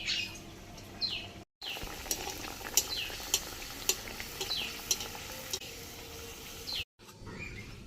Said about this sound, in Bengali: এইভাবে নাস্তা রেসিপিগুলো ভেজে নিতে হবে তেলে